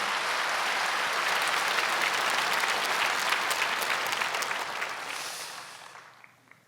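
Applause from a church congregation during a talk on drug addiction recovery, dense and steady clapping that swells briefly and then fades away over several seconds.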